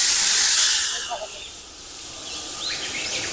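Liquid hits hot ghee with roasted semolina, a loud bright hiss bursting at once then easing into a steady sizzling spatter, close up.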